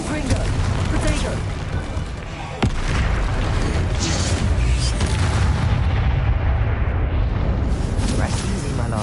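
Spell blasts boom and crackle during Hogwarts Legacy combat, a dense, loud barrage of explosive impacts with one brief dip early on, while a voice shouts over the action.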